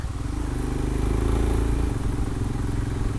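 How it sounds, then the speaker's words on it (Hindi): A Honda Unicorn motorcycle ridden at speed on a ghat road near Bhor, Pune, its engine droning loudly and steadily with a low pulsing rumble and wind noise throughout. "अच्छी स्पीड में चला रहा है लड़का यार, और बाइक भी उसकी कौन सी है, यूनिकॉर्न है शायद"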